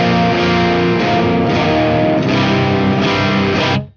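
Electric guitar through a Marshall Valvestate AVT150H amp head on a clean tone with the bright switch off, with loud, full strummed chords ringing in several bursts and then cutting off sharply.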